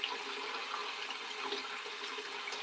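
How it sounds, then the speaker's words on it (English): Water running steadily from a tap while shaving lather is prepared, a continuous splashing hiss at moderate level with no talking. "Go ahead and add just a tiny bit of water."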